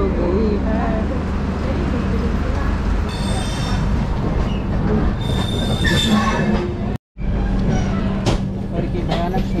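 Netravati Express train rolling along the rails with loud steady rumble and high wheel squeal throughout, briefly cut by a short gap, with voices faintly underneath.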